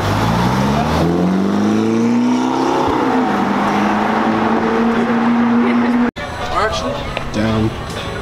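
A car engine with exhaust valves revs loudly at a cruise, its pitch rising and falling in sustained pulls, then cutting off abruptly before a rougher, choppier engine burst returns near the end.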